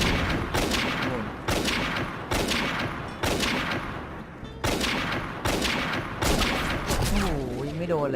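Gunfire in the video game AvatarStar, with a weapon firing in rapid, evenly spaced loud bursts, about eight shots in a row, and a short sweeping tone near the end.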